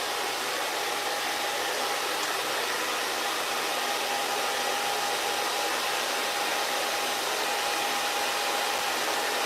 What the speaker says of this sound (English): we're just pixie diffusing at this point